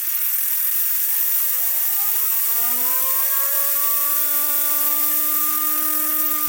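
A bladeless turbine built entirely from Lego spins up on compressed air at 60 psi toward about 18,000 RPM, a loud steady hiss of rushing air under a whine that rises steadily in pitch, with several overtones climbing together.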